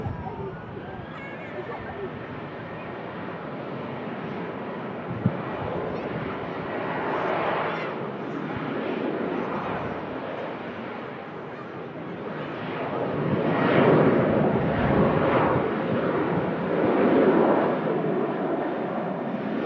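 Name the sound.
airliners taxiing and departing at Manchester Airport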